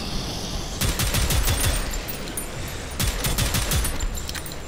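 Rapid gunfire in the retro-style first-person shooter game Prodeus, two loud bursts of dense, overlapping shots separated by a brief lull, with constant game sound underneath and no talking.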